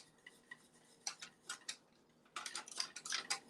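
Lemon curd being stirred in a bowl, a utensil clinking and scraping against the sides in short uneven bursts, close and fairly quiet with pauses between strokes and a busier run toward the end.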